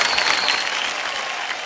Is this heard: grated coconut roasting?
no